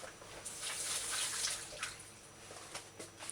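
Running water rinses a sprig of thyme, a steady close splashing hiss that tapers into lighter trickles and drips.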